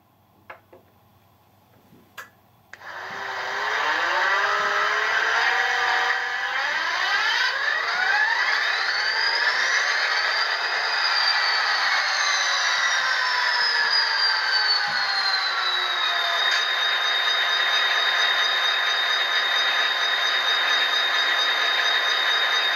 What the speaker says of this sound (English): You can hear what that Tsunami sound decoder sounds like.